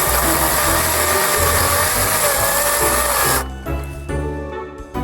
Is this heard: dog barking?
no